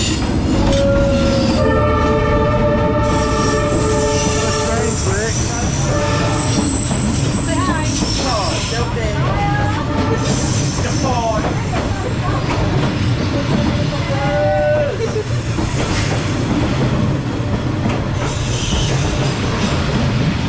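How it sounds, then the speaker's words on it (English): A train rolls through Hanoi's narrow Train Street, its horn blaring repeatedly near the start as wheels squeal and rumble close by, with people talking and calling out over the din. "Have a train coming."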